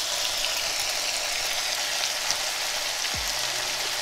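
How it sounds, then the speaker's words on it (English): Ackee added to saltfish frying in a pot gives a continuous hiss and crackle of cooking, a steady close sizzle with a brief low thump near the end. "Now we're just going to go ahead and add the ackee."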